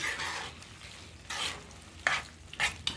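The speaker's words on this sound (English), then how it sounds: "Stir that together." Casserole ingredients being stirred in a pot with a spoon, giving scraping and sloshing strokes in irregular bursts against a faint sizzle, heard close.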